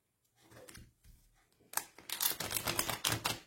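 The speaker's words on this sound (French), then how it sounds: "Là, il y a trop de cartes. On va remélanger." Tarot cards being reshuffled by hand, a run of quick papery riffles and slaps that grows louder and denser after a quiet start, close and alone.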